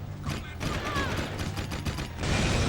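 Rapid gunfire in Jak II Renegade as a cage is shot, a steady stream of shots layered with mechanical clanks and creaks, dense and continuous, growing louder near the end.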